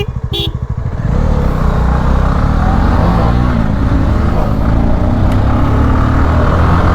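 A Bajaj Pulsar 220F motorcycle is ridden, its close, loud engine settling after a brief opening burst into a steady drone mixed with wind rush.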